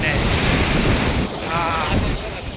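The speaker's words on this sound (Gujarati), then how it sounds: "દરિયા કિનારે આવી ગયા છીએ, અને દરિયા દેવી આપણા પગ ધોઈ નાખ્યા છે" Sea waves wash onto a beach in Kutch, a loud continuous roar of surf with strong wind buffeting the microphone.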